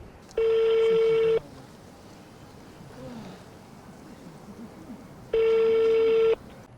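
Ringing of a telephone call, heard as two loud electronic ring bursts about a second long, separated by several seconds of quiet background.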